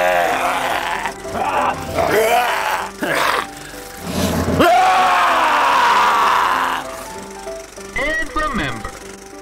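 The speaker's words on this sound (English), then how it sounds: "A terrifying scream will surely help to subdue a zombie's victim." A person voicing a zombie scream, with repeated harsh, strained shrieks and groans in loud bursts separated by short breaks, close to the listener.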